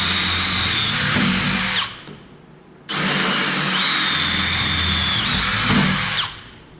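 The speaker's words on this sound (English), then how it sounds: "I'm going to drill 3 holes in the lower control arm" A power drill bores holes into a steel lower control arm of a Merkur rear suspension, two loud, close, whining bursts of several seconds each, broken by a short pause, with no talking.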